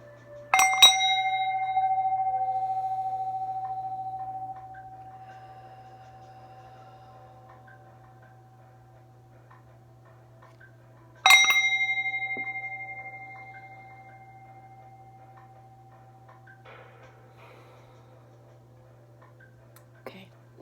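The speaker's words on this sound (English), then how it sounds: "I'm going to use my Tibetan singing bowl here" A Tibetan singing bowl is struck twice, about ten seconds apart, each strike ringing out clear and sustained with a long, slowly fading hum over a steady low background drone.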